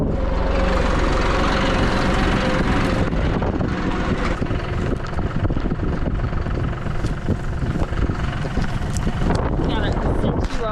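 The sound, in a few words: strong wind blowing outside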